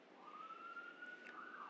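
A police siren wails faintly in the distance, a single steady rising tone that holds and wavers slightly over a soft background hiss.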